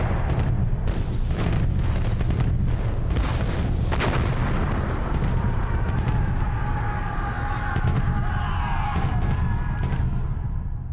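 Crimean War artillery bombardment: a dense, continuous rumble of heavy cannon fire with repeated booms rolling over one another, loud and sustained, with no speech.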